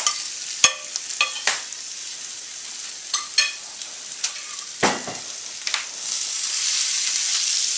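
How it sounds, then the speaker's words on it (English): Vegetables and garlic sauteing in butter in a pan, a soft continuous sizzle broken by sharp clacks and scrapes of stirring and tossing, nearby with no talk. "Just going to add this into the other vegetables that have sauteed down."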